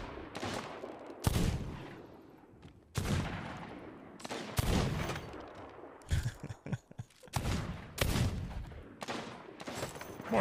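Gunfire from an enemy ship in the Sea of Thieves pirate game: several loud, sharp bursts of shots and booming blasts spread across the stretch, with clusters of rapid cracks near the end.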